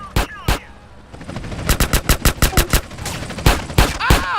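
Gunfire with two separate shots, then a rapid string of loud close shots in quick rhythm, followed by a few more single blasts.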